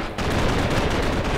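Rapid gunfire rattles continuously while zombies are shot in a Minecraft zombie-apocalypse game, loud and dense with no break.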